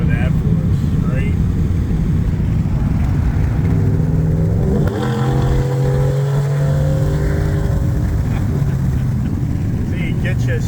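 A car's exhaust note echoes off a concrete wall, Jersey barrier and underpass, rising from a steady drone into a revving run midway through, loud and close.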